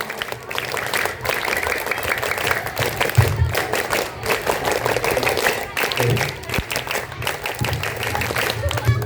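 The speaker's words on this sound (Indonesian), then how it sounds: "Tiga kali tepuk pramuka" Children at an elementary school perform rhythmic scout claps in a group, a bright patter of many small hands with sharp accents, mixed with crowd murmur and voices talking over it.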